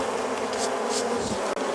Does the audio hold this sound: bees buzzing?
yes